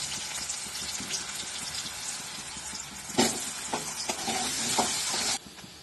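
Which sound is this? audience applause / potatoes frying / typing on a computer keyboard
potatoes frying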